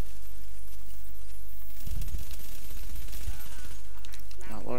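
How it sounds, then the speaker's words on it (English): Rapid gunfire in the shooter game The Division, several quick bursts of shots rattling over constant background game noise, with a voice talking over it. "I'm still shooting."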